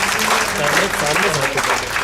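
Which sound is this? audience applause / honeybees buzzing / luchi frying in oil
audience applause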